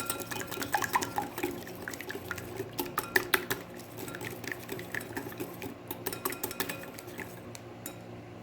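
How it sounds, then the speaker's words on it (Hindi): A whisk beats egg and olive oil in a bowl, with a steady run of light metallic clinks and scraping taps against the bowl's sides, close by and without speech. "2 टेबल स्पून मैंने ऑलिव ऑयल डाला है और इसको मैं विस्क करूँगी।"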